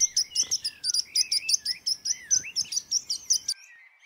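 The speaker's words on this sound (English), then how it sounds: "Parrot" A parrot gives a rapid, evenly spaced run of about twenty sharp, close chirping calls, loud and alone against silence.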